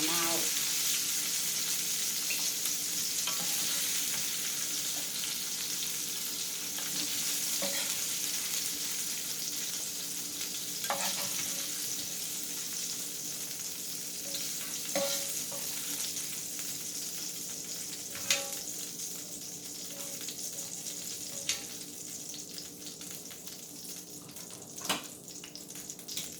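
Chopped vegetables sweat in a pot for beef stew, giving a steady soft sizzle and frying hiss throughout, with occasional light clicks of utensils against the pan.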